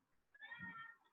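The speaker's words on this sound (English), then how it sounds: "Excuse my cat there." A house cat gives a single short meow, fairly quiet and close, alone against faint room noise.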